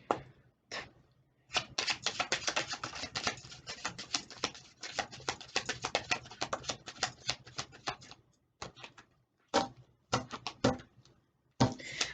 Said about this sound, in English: I hate shuffling, but it's necessary